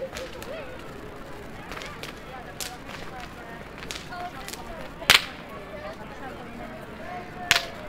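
Whips cracking at a renaissance festival, a series of sharp snapping clicks spread out among crowd noise, with two much louder, crisp cracks near the end.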